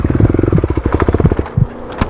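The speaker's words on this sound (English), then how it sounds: "Let's see if the KLX can get up." A Kawasaki KLX351 dirt bike engine thumps up a steep hill with rapid, loud, close-up pulsing firing beats that stutter and bog near the end.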